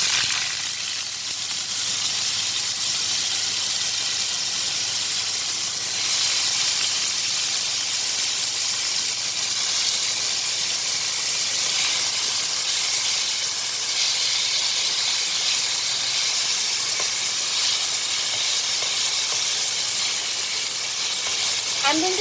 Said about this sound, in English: Here goes the potatoes into the oil